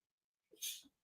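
A single short, sharp sneeze bursts out of silence, a quick breathy intake followed by a bright hissing expulsion, close and fairly quiet, with nothing else around it.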